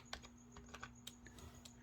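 Typing on a computer keyboard, a quiet run of light irregular key clicks over a low steady hum, with no speech.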